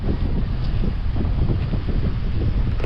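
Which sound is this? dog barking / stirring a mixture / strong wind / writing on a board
strong wind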